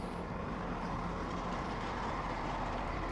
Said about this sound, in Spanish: Sí, son trenes de alta velocidad.